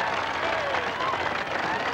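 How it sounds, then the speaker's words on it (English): A rodeo crowd applauding the pickup team at a distance, a steady wash of clapping and cheering with no break. "how about a big round of applause for our pickup team here this afternoon?"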